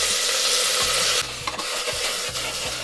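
Hot oil sizzles with fine crackling and popping as mustard seeds, urad dal and cumin temper, while a spoon scrapes the pan in several low strokes.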